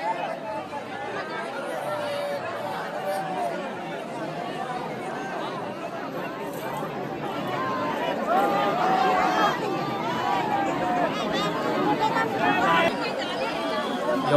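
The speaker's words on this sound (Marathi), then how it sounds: "गर्दी बघा किती." Dense crowd chatter fills the ancient Gautam Rishi temple, a steady babble of many voices close around, swelling slightly louder toward the end.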